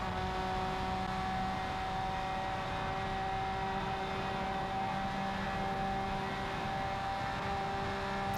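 A Lamborghini Sian in Project Cars 3 accelerates along a straight, its engine a steady, dense, continuous drone with sustained tonal whine throughout, loud and unbroken with no talk.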